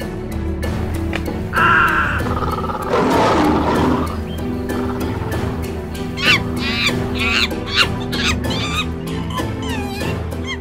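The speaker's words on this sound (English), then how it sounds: "Just then, they heard a roar." A lion's roar rises in a toy play scene, long and raspy, layered over busy music and squeaky sound effects that continue throughout.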